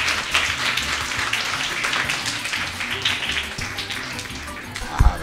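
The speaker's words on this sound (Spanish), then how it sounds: "vamos a darle un fuerte aplauso al profesor para darle la bienvenida." Audience applause welcoming a teacher to the stage: dense, steady clapping from a crowd for about five seconds, fairly loud and even, ending with a couple of sharper close thumps.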